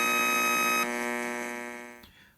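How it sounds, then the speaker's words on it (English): An electronic alarm from a Snap Circuits Extreme SC-750 kit sounds as a loud, steady buzzing tone for about two seconds before cutting off abruptly. "if an intruder was to remove the wire, the music would play, sounding an alarm."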